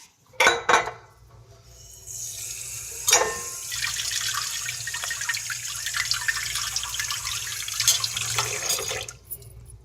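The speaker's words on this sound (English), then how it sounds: "So let's rinse the eggplant." Tap water runs steadily over an eggplant being rinsed in a sink, opening with a few sharp clatters before a continuous close splashing stream that cuts off near the end.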